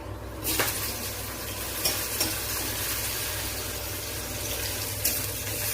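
Bay leaf, dried chilli, whole cardamom and cloves fry in hot oil with a steady close sizzle, broken by a few clinks and scrapes of a spoon against the pan.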